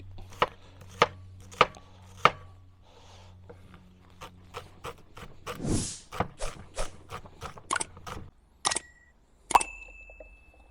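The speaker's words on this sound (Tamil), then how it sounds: "வெங்காயத்தை சின்ன சின்ன வெட்டி" Onions chopped into small pieces on a board for a fish curry served with chapati: a dozen or so sharp, close knife strikes in an uneven rhythm, with short pauses and no talk.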